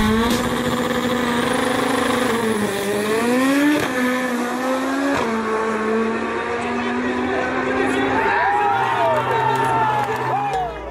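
High-powered drag car of about 1,000 to 1,200 horsepower at a car show, its engine revving loudly and continuously with rising and falling pitch, under a noisy crowd and talk.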